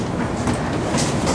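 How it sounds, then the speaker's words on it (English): Steady rumble and rushing noise inside a Chinese high-speed train of 20 carriages cruising near 320 km/h, with a continuous broadband roar and faint rhythmic rail clatter, close and even throughout. "This is the fast train that we're getting on."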